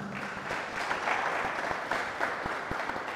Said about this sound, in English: Please do give yourselves a warm round of applause for making it down here on time